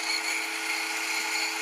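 A 180-grit Abranet mesh sanding medium works a surface with a steady, continuous, close abrasive whir that holds an even level throughout, with no voices.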